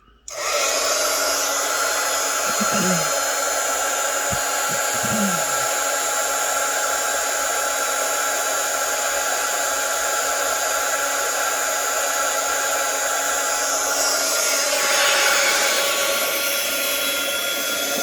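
A heat tool blows hot air with a loud, steady rushing whoosh that runs continuously up close, with a couple of faint clicks near the start.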